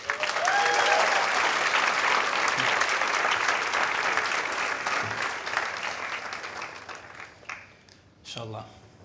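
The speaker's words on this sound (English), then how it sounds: "Let's give her a round of applause." Loud, dense audience applause at a talk, sustained for several seconds and then tapering off, with a brief voice at the very end.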